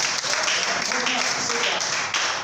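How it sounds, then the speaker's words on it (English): A church congregation claps and applauds during a Sunday sermon, a dense, steady wash of hands heard close, with a voice speaking over it. "Clap your hands for Jesus."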